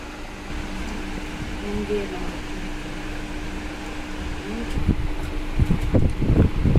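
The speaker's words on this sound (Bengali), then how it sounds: "আর এত গরম পড়েছে, তো ফুল স্পিডে পাখাও চলছিল" A constant whirring hum of a fan running fast fills the room, steady throughout, with some faint clatter and movement toward the end.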